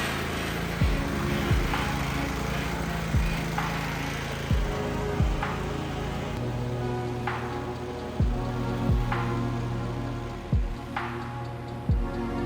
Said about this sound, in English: I'm about halfway through mowing my lawn